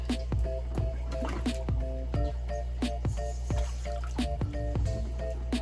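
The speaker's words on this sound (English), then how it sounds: "We fill our siphon hose with water, and that primes it enough to start a siphon." Pond water being poured into a siphon hose for an aquarium water change, heard as close, irregular dripping and liquid plops over a steady low hum, with no talking.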